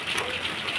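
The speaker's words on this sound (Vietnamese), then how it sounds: "Mưa rồi, mưa nha, cơn mưa đầu mùa nha tại thành phố Hồ Chí Minh" Heavy rain, the first of the season in Ho Chi Minh City, pours down as a steady, dense, close hiss of water that stays loud and even throughout, with no voices over it.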